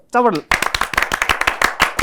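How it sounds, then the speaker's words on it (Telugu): At an interview event, a short vocal cry gives way to a burst of loud, brisk clapping from a crowd, sustained and dense for a couple of seconds. "గట్టిగా చప్పట్లు"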